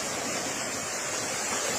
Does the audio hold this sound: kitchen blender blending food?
no